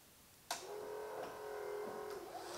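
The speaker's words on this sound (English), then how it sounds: "Sounds like a vacuum cleaner." Windshield washer pump on a 1965 Chevrolet Malibu SS switching on with a click and running as a steady electric whine for under two seconds before cutting off, close and alone.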